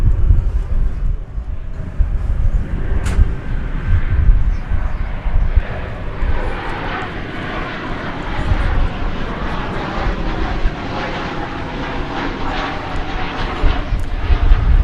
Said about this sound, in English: Flight 817 from Bozeman, Montana, 737-800.